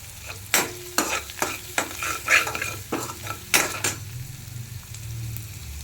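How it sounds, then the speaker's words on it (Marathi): Fenugreek leaves stir-fry with onion and salt in a pan, with a quick series of sharp spatula scrapes and clinks over a sizzle that carries on alone after the stirring stops. "तळत आलं की मग भाजी टाकायची. थोडंसं मीठ टाकायचं, म्हणजे कांद्याला पण लागेल."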